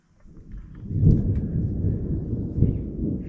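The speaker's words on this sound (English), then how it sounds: "Thunder and lightning." Thunder rolling at an ayahuasca jungle retreat, a deep rumble that swells, eases and surges again over a few seconds, moderately loud with nobody speaking.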